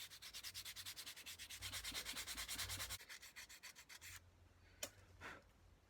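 Close, rhythmic back-and-forth sanding strokes rasp against a wooden jerkbait lure body, quick regular passes that slow and thin out toward the end with a couple of sharper scrapes.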